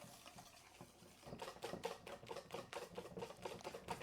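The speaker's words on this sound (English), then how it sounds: "Now we will just mix this all together to make a batter." A spoon or whisk stirs barley and all-purpose flour into a batter in a bowl, making quick rhythmic scraping taps that grow busier after a quieter start, with no talking.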